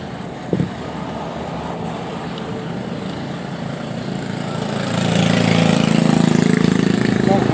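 A Honda Beat motorcycle engine, which starts but lacks power to move, runs steadily nearby, its drone growing louder and rougher about halfway through, with speech faintly audible under it.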